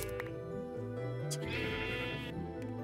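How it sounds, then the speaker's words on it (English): Minecraft sheep bleating in the game, a wavering bleat over steady game music, clear and fairly near. "The sheep has been located."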